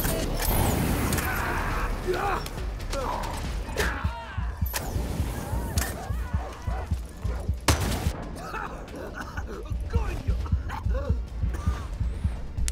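Dogs bark in the video game Far Cry 6 amid bursts of gunfire and mechanical clatter, with repeated short barks over a busy game soundscape and someone talking at times.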